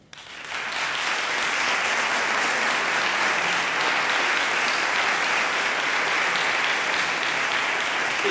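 Sustained, loud audience applause at a CAMPUSPDI conference session, starting abruptly and holding a dense, even wash of clapping hands for several seconds.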